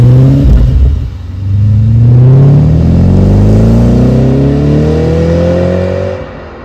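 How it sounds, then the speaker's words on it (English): A B7 Audi RS4's V8 engine revs up and holds a deep, loud exhaust roar, pitch climbing steadily before easing off at the end. "the number 1 thing that I love about the RS4 is gonna be the exhaust note"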